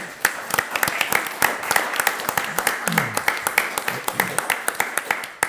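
Audience at a county Board of Commissioners regular meeting applauds, a few seconds of scattered, uneven hand claps in a room, with voices murmuring underneath.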